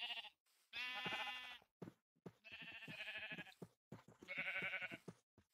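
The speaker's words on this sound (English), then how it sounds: "Hey boy, there's a sheep. There's a sheep. Look, a sheep." Sheep in Minecraft bleat three times in separate wavering, nasal calls, each lasting about a second. The bleats are clear and close, with short quiet gaps between them and no talking.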